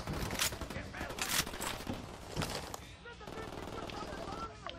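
Gunfire in the shooter video game Ghost Recon Wildlands: several sharp shots and bursts ring out over distant in-game ambience, with a person talking over the action.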